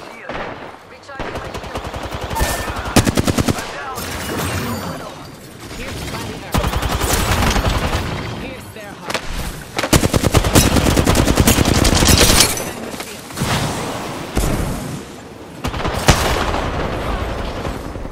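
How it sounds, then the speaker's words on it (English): Heavy gunfire rings out in Apex Legends during a firefight, with rapid automatic bursts and sharp cracks coming in dense waves and brief pauses between them. Loud and close, with in-game voice lines occasionally mixed in. "They're shooting at me."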